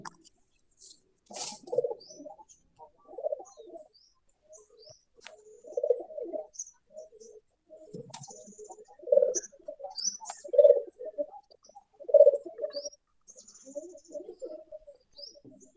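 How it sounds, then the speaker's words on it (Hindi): A pigeon coos in soft, repeated phrases every second or two, with faint chirps and brief wing flutters in a quiet setting. "या कबूतर किसके यहाँ गुटगुटू कर रहा है?"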